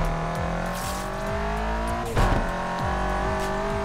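Subaru BRZ with a missing rear bumper in Need for Speed Unbound, its engine revving through repeated upshifts with stepped pitch climbs, a brief louder burst midway, close and continuous.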